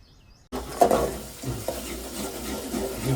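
Onions browning in a pan, sizzling steadily while a spoon stirs and scrapes through them, with a few clinks against the metal, close and moderately loud, with no talking.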